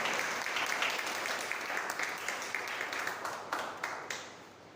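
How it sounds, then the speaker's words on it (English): Audience at a Toastmasters club Independence Day meeting applauds steadily to welcome a speaker, a dense patter of many hands clapping at moderate distance, tapering off near the end. "With a huge round of applause, please help me welcome Toastmaster Shreya."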